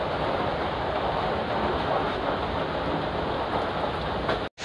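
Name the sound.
heavy rain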